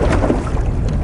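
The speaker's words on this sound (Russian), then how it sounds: "Ну, вот мотор на холостом идет" A boat motor idles on the water during a river fishing trip, a close, low rumbling churn under rough wind-like noise for about a second.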